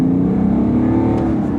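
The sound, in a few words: BMW 530d xDrive accelerating in Sport mode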